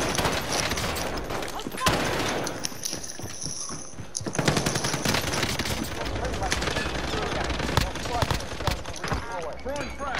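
Bursts of automatic gunfire from a Mac-10 or FFAR in a Call of Duty: Warzone match, rattling through most of the stretch with an excited voice talking over the shooting.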